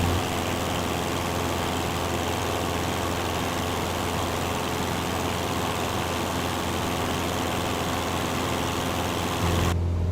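A light aircraft engine in Microsoft Flight Simulator 2020 climbing through about 5,000 feet at 100 knots, a loud, even, continuous drone with a steady low hum that cuts off abruptly near the end.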